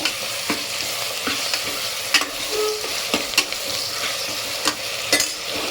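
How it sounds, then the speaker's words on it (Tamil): Chopped tomatoes sautéing in a hot pan for radish sambar, a steady close sizzle broken by repeated scraping clicks of a spoon stirring, with no talking. "தக்காளி போடுற பாருங்க. இது நல்லா வதக்கணும் பாருங்க."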